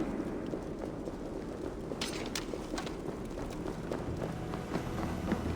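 Heavy footsteps approach in Assassin's Creed Valhalla, a dense, rumbling run of many feet like a group closing in. The sound is steady and moderately loud with a few sharper impacts and no speech.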